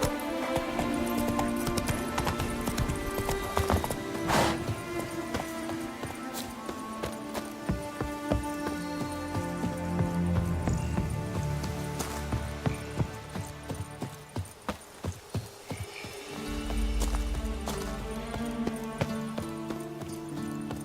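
Roach, a horse in The Witcher 3: Blood and Wine, gallops in a quick, rhythmic clip-clop of hooves under game music and ambient sound, with a brief snort or whinny.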